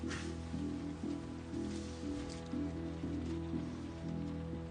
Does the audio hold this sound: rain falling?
yes